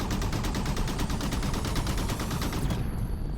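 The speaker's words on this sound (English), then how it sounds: "You still have your evade. Your regular machine gun." Phaeton machine gun in Halo 5 fires a sustained, loud rapid burst of rounds for about three seconds, then cuts off abruptly, with dense battle noise underneath.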